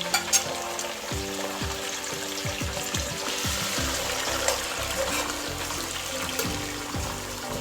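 Natural seasoning sizzles in a cook-up pot for sweet potato dumpling stew with gungo peas and saltfish, a steady crackling fry with stirring and scraping knocks in the pot, close and moderately loud with no talking.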